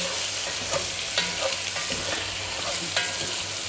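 A pan of floured veal stew deglazed with white wine gives a loud continuous sizzle, with repeated scraping stirs of a utensil against the pan bottom and no voices.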